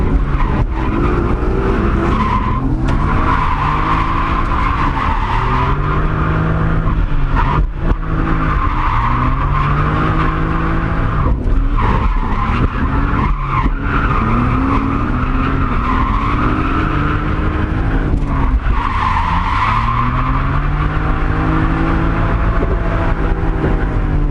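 A modified orange Mazda MX-5 drifts at a practice session, its tires squealing and skidding loudly and continuously as the engine revs rise and fall between slides.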